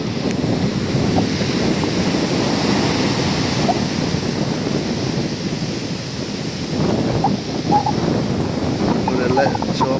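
Rough sea surf crashes in front of Chembirikka Juma mosque, a continuous, loud, churning roar of breaking waves mixed with gusting wind rumble on the microphone.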